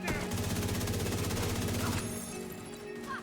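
Rapid automatic gunfire in The Division 2 video game, a dense, loud burst of repeated shots that fires for about two seconds and then cuts off, leaving quieter game sounds.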